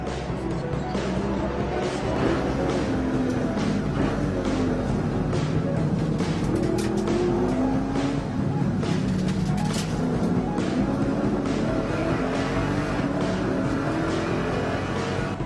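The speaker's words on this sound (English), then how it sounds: "The Lexus IS-F with Kazunori Yamauchi at the wheel made its start." A Lexus IS-F race car in Gran Turismo 5 runs a 24-hour endurance race, its engine droning steadily and loudly throughout with shifting pitch as it accelerates among other cars.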